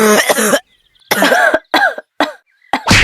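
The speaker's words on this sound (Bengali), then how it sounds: "এই শীতে অনেক কষ্টে কাশিটা আটকে রাখছি একটু কাশা নেই" A man bursts into a string of harsh, close coughs in winter. About five separate hacking bursts come with throat-clearing between them, broken by short silences, and no other sound.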